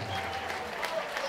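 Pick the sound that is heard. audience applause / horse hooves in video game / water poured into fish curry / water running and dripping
audience applause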